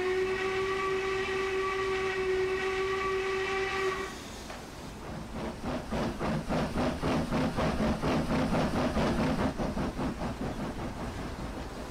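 A long, loud steam whistle from an Austerity 0-6-0 tank locomotive in Train Simulator Classic holds steady for about four seconds, then cuts off into the rhythmic chuffing and clanking of the engine running.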